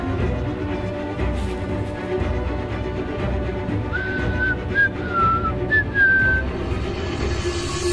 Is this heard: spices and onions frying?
no